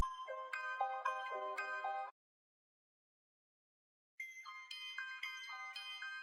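A chopped sample phrase pitched up an octave in a dark trap beat: bright, bell-like melodic notes play for about two seconds, stop into silence, then return with the same stepping pattern.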